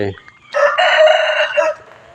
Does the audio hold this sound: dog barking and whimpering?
no